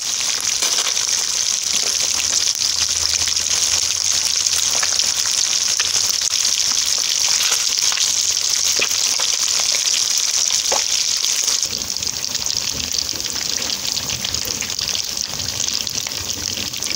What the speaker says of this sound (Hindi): थोड़ा सा ऑयल आप ऐड कर लें कढ़ाई में या फ्राई पैन में, जिसमें आप इजीली फ्राई कर सकें फ़िश को।